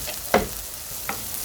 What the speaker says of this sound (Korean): 그래서 삶때 노릇노릇하게 구워주세요.